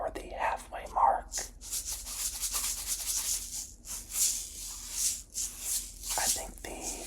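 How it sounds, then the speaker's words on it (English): Sesame seeds shaken in a container close to the microphone make soft, dry rattling and rustling bursts that come and go in uneven waves. A quiet whispering voice runs underneath. "I think the shaking sounds or the sesame seed movement sounds might actually get better as well"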